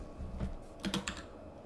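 Typing on a computer keyboard while writing HTML code, a short burst of a few close, crisp key clicks in an uneven rhythm.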